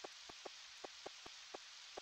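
Rain falls steadily in the farming game Harvest Moon 64, a soft constant hiss dotted with sharp, regularly spaced droplet ticks, heard alone with no talk.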